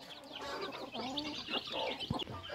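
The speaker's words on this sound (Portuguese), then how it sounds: "essas galinhas aqui, que bonita" Chickens cluck close by at a farmyard stop during a family trip, a steady run of overlapping clucks and calls.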